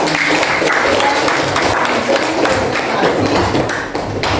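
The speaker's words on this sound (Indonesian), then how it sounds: "Ya, tepuk tangan dulu." Sustained applause from a group of teacher trainees, dense and steady clapping filling the whole stretch without pause.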